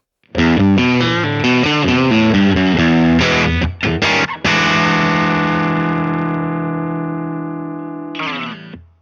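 A Baum Vega Verve electric guitar on its bridge pickup, played through a Supro Airwave amp, rings out a bright, twangy run of picked notes, then a long sustained chord fading out before a short final strum.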